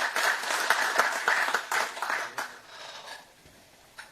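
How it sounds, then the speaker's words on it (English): Audience clapping for the Chief Minister of Goa at an Indo-American Chamber of Commerce inauguration, fairly close and lively at first, then thinning out and fading toward the end with a last stray clap. "Let's hear a louder round of applause for our Chief Minister."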